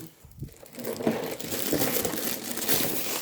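Foil wrapping on a Christmas gift crinkles and rustles continuously up close as it is pulled open.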